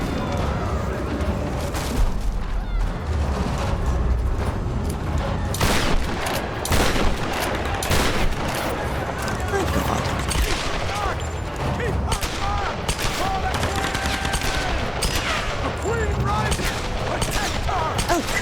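Rapid bursts of gunfire from the 2013 Tomb Raider video game during a battle, with dense overlapping shots and booms running steadily throughout at a loud, busy level.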